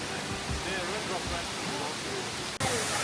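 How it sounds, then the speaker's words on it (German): A waterfall on a hike in Zion, rushing as a steady, loud, broadband roar with no break, and faint voices beneath it. "wir sind angekommen am ersten Ziel, an dem richtig tollen Wasserfall"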